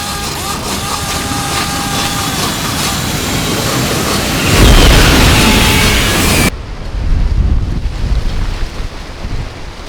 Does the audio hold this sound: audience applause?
no